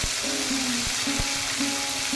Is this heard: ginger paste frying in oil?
yes